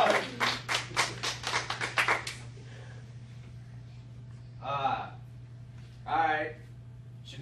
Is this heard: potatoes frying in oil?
no